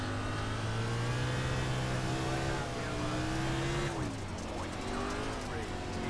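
A dirt race car engine in the iRacing simulation at Bristol holds a loud, steady drone, sags briefly, then climbs again as the throttle is worked, with the car sliding sideways.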